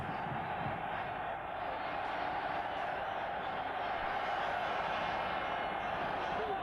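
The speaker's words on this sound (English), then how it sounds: "Certainly the crowd trying to get behind them again as Zaleski just gets his hand to that." A football stadium crowd at a Euro 1996 match roars in a steady, distant wash of cheering and chanting that continues throughout without letting up.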